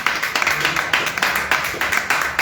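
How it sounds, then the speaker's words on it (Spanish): Congregation clapping during a Spanish-language church service, a steady rhythmic patter of many hands filling the room, continuous and fairly loud throughout. "Le sorprenda el aplauso al Señor"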